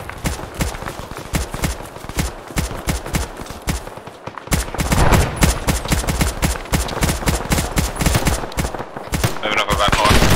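Sustained suppressing fire in a military video game battle: rapid, loud bursts of automatic gunfire crackle steadily throughout, denser and heavier in the second half, with overlapping shots echoing close by.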